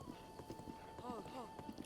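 Horse hooves clip-clop in a steady rhythm in the video game Zelda Breath of the Wild, moderately close and quiet, with a brief whinny partway through and a voice speaking over it.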